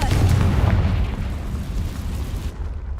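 A Confringo fire spell blasts in Hogwarts Legacy, a dense, loud low rumbling explosion that fills the opening seconds and then rolls off and fades.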